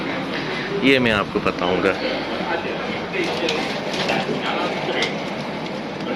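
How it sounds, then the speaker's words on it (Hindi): A train pulling into a station in Malaysia, with a steady rumble and rattle of cars and a brief squeal near the start, under someone talking in Hindi. "ये ट्रेन आ गई हमारी"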